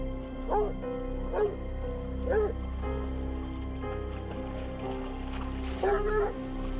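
Hunting dogs bark in short separate bursts, four or five sharp barks spread across the clip over a steady low hum, while a coyote is mauled during penned dog hunting in Ontario.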